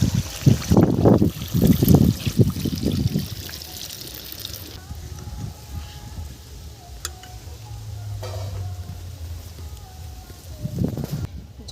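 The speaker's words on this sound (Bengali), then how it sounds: "ঝোল ফুটে গেছে" Doi ilish, a hilsa fish curry in yogurt with oil, green chillies and black cumin, bubbles softly in a pan with a steady low simmer. A voice speaks over it in the first few seconds.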